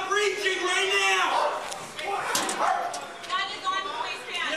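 A San Diego police dog barks and yelps in excited, high-pitched bursts during a police shootout, mixed under loud, urgent shouting from officers throughout.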